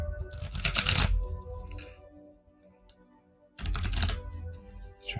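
Two bursts of riffling as large cards are shuffled, a quieter pause between them, close and fairly loud with no talking.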